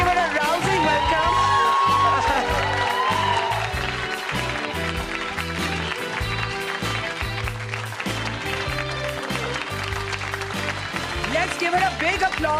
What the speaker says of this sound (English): Please put your hands together to welcome Sudha Murty on stage.